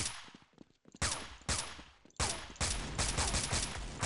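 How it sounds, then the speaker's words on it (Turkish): Colt rifle fire in the Counter-Strike 1.6 CS:GO mod, several sharp loud shots after a short pause, then a sustained rapid burst of automatic fire up close, alone without talk. "Oğlum bu neyle sıkıyor? Çok güzel sesi lan bunun. Ne silah senin? Colt."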